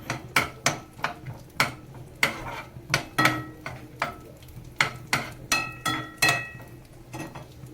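Dry fruits browning in oil in a pan for a sweet vermicelli kheer, stirred with a metal spoon that knocks the pan in a steady rhythm of sharp clanks over a light sizzle, close by.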